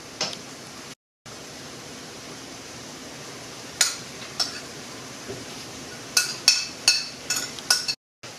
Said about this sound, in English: And then you stir this one really well, and then just dump in with the mushroom.